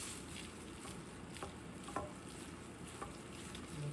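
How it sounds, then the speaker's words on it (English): Tuna melt filling being stirred in a bowl, a continuous soft wet mashing and scraping with a few faint clinks of the utensil against the bowl, close and fairly quiet, no talking. "We're gonna just give this a good mix."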